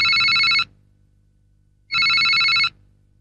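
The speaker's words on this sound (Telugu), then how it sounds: "ఆ ఫోన్ అందుకో." A telephone rings in two long electronic trilling bursts separated by a pause, loud and close with no voices over it, in a tense domestic thriller scene.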